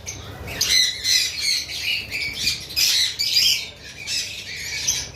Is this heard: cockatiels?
yes